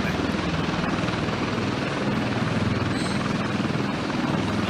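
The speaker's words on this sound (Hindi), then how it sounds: "देखिए, आप हेलीकॉप्टर का काफिला है" A convoy of helicopters escorting the US president lifts off toward the G7 summit venue in Canada, a steady, loud rotor roar filling the whole stretch with no break.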